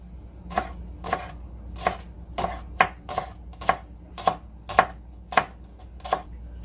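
A knife chops green onion on a cutting board in a steady run of about a dozen crisp, close taps at an even, unhurried pace.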